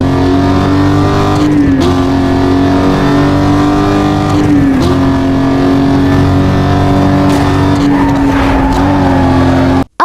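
Aston Martin DB9 with the super pro engine package in Need for Speed Most Wanted screams at a loud, constant rev, dipping briefly at three gear shifts spaced a few seconds apart before stopping sharply.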